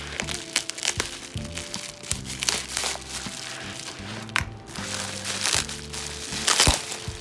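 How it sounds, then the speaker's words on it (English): Bubble wrap package being cut open and handled, a close run of crackling, crinkling plastic with small pops and scrapes throughout. "Plenty of bubble wrap."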